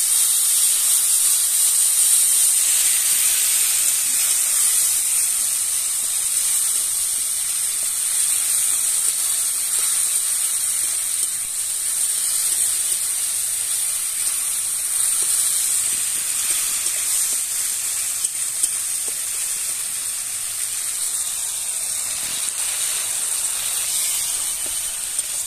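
Steady loud hiss of water hitting a hot pan while cooking mustard pointed gourd with hilsa, a continuous steaming sizzle that holds for the whole stretch without pause.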